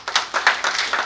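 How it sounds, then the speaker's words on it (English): An audience at a nursing simulation center event gives a brief round of clapping, a quick uneven patter of hands lasting about a second. "They need a round of applause."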